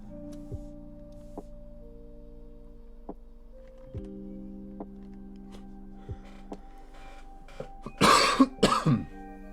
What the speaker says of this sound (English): I'm still doing some sick coughs today